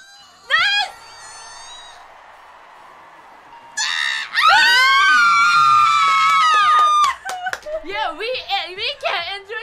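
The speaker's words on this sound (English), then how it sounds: "Screaming only. Scream only." People scream in bursts, a short shriek early on and then a long sustained high scream that breaks into wavering yelps and squeals near the mic.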